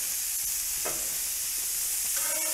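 Sucuk sausage and onions sizzling on a grill, a steady, fairly quiet hiss with a couple of brief clicks or scrapes from turning the food.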